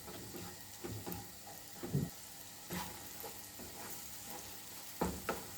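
Eggs being mixed with salt and onion in a bowl: soft, irregular scraping and tapping strokes, faint and close, with no talking.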